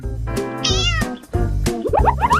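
A cat meows several times in quick succession, close and loud, with rising and falling calls that include one high-pitched squeal and a run of short chirpy mews at the end.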